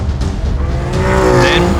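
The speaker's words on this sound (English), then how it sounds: "During a session, a car launches every 25 seconds" A race car launches up the course at the 2018 Jaguar Simola Hill Climb in South Africa, its engine note climbing sharply in a brief, loud burst as it pulls away.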